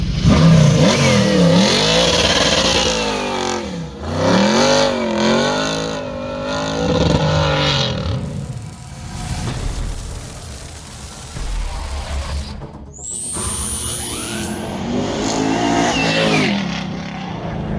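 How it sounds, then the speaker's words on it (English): A 1969 Camaro Rally Sport's V8 engine revs repeatedly at Adams Motorsports Park, rising and falling in loud bursts up close, with a brief high whine near the end. "This is my 69 Camaro known as the pole dancer."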